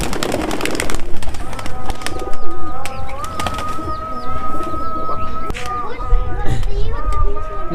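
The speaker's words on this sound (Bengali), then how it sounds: "এখন কবুতরগুলো খাবার খাচ্ছে" Pigeons on a rooftop being fed grain, with soft cooing and bird calls running steadily throughout. Children's voices and scattered knocks sound nearby.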